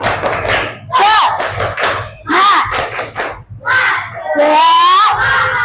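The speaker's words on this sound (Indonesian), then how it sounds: "Coba dong kita tepuk semangat dulu." Schoolchildren in a classroom perform a rhythmic spirit clap, with bursts of claps and thumps alternating with loud group chanting and shouts.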